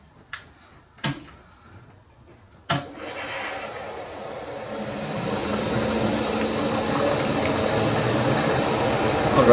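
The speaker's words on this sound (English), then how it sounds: "I run at about 1000 RPM when I'm doing my edge finding." A milling machine spindle runs at about 1000 RPM for edge finding during a powered lathe slotter build, a steady broadband whir that rises after a few sharp clicks and keeps building to the end.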